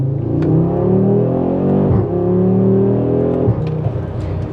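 An 8Y Audi RS3 fitted with an ECS exhaust revs loudly and steadily nearby, its deep, thick engine tone sustained for several seconds with brief dips as the revs shift.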